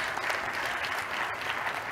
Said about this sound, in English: Applause, yeah.